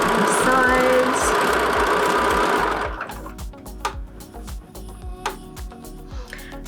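A sewing machine stitches the side seam of a fabric tote bag with a long stitch length, running loud and steady before slowing into lighter, intermittent clatter.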